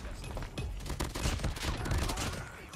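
Burst gun shots from a COD Mobile video game match ring out in steady, dense volleys throughout, loud and close, with no one talking.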